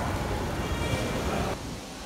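Heavy rain pours steadily outdoors at the Faisal Mosque in Islamabad, a dense continuous hiss that drops slightly in level near the end, with no talking.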